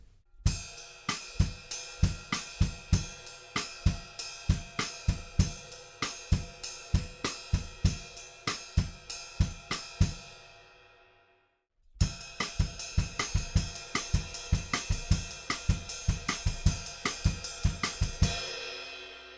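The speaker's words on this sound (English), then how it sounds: "we're going to bring in some more kick drum," A programmed-sounding drum groove with crisp rim clicks and frequent punchy kick drum hits, pausing briefly before the pattern repeats.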